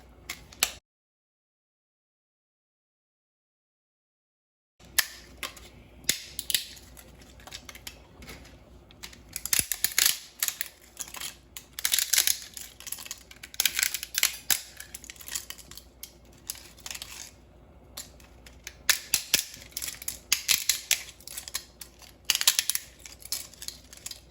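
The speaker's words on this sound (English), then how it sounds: "I just put it in my hand and I just crush them and just make small little pieces" Dry lasagna noodles are crushed into small pieces by hand over a pot of soup, giving repeated crisp snapping and crackling bursts that start after a short silence and keep going in uneven clusters.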